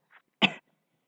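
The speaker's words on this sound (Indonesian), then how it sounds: "maaf sedikit batuk saya," A single short, close cough from a man during a structural statics lecture, preceded by a faint throat sound, otherwise silent.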